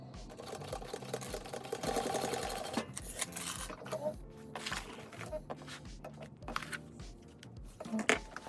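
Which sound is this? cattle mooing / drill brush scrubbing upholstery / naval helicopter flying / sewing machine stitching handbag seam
sewing machine stitching handbag seam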